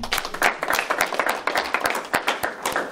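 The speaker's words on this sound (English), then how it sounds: "So can we get a round of applause for you guys?" An expo audience at an electric vehicle event bursts into loud, dense applause, many hands clapping close and continuously for a few seconds.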